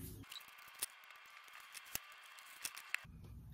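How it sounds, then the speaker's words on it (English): Scissors cut a printed paper planner page: a soft, continuous snipping and paper rustle with a few sharper clicks, close but quiet, with no talking. "So I'm going to actually cut this side off."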